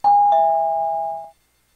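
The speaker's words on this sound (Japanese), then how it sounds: "玄関のチャイムを鳴らした。" A two-tone front door chime rings once in a video game, loud and close, both clear bell notes sustaining about a second before fading to silence.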